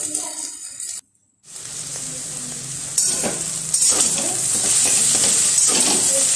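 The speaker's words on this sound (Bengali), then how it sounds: "এবার চাউটা দেবো, চাউটা দিয়ে নেড়ে নেবো।" Chowmein noodles stir-fried in a pan with egg and potato, a steady close sizzle with scraping and stirring strokes, a brief drop to silence near the start, then continuous frying.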